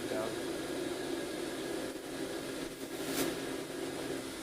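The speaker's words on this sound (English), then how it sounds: "We're running the spindle." The spindle of a 1999 Fadal VMC 2016L CNC vertical mill, rated to 7,500 RPM, runs with a steady, airy whir and hum, moderately loud and continuous throughout.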